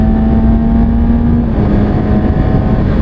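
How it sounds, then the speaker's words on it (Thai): Road traffic heard through a cheap lavalier mic inside a motorcycle helmet: a loud, continuous engine drone with a steady hum and the rush of passing vehicles. No talking. "ฟังเสียงรถไป"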